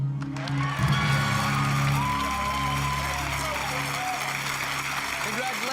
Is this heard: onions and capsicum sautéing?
no